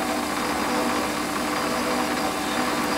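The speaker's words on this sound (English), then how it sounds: "And I want to drill it out 5mm diameter." A steady mechanical whir of a lathe drilling a 5mm hole in metal, with a continuous metallic hum and faint ratcheting texture, moderately loud and unbroken.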